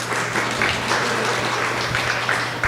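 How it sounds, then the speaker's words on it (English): A conference audience at GUADEC 2024 claps loudly in thanks to the sound crew, a thick, even wash of many hands filling the room without any voices. "thanks for clapping"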